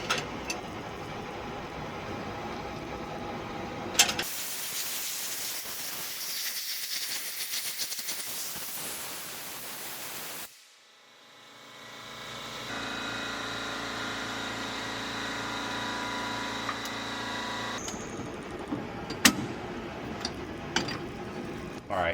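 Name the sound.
ASNU ultrasonic bath cleaning pulsing fuel injectors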